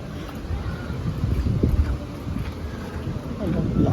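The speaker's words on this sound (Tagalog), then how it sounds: "Lakas ng hangin." Strong wind gusting across an outdoor warm hot spring pool, a steady low roar with rising buffets from close range and no talking.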